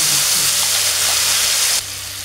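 Spice paste of cumin, turmeric and salt hits hot oil for a spicy pabda fish curry, setting off a loud, hissing sizzle that drops suddenly to a softer steady frying near the end.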